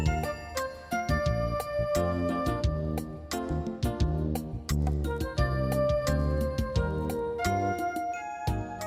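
Bright retro Roland MT-32 sound card music plays busily, with plucky chiming notes, punchy bass and drum hits in a steady rhythm, no voices.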